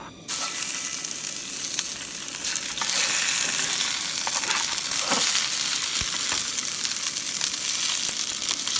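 Skin-on pieces of food slid into a hot pan hiss loudly and close, and a dense, continuous sizzle with scattered pops and crackles runs the whole way through without any talking.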